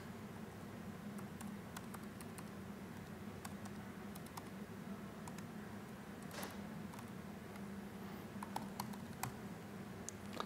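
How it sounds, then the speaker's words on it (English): Typing on a computer keyboard during a cloud security demo, sparse light key clicks scattered over a steady low hum, faint and somewhat distant. "I'll type it."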